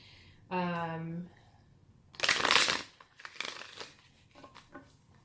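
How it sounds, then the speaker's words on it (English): A short hum comes first, then bursts of riffling, flapping tarot card shuffles, one long and several shorter, with quiet pauses between. "I'm just going to give it a couple shuffles"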